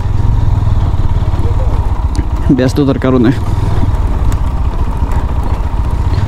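A GPX Demon Rider motorcycle engine running, a loud close steady thrumming drone with a regular fast pulse, while someone talks briefly over it.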